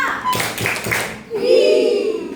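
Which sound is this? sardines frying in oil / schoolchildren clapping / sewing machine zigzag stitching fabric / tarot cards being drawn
schoolchildren clapping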